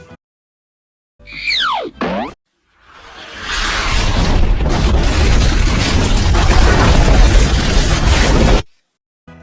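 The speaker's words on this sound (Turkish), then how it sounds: "Şimdi de al sana bir tane bomba." A bomb goes off in Hello Neighbor: after a short springy, descending cartoon tone comes a loud, roaring blast that rumbles for several seconds before cutting to silence.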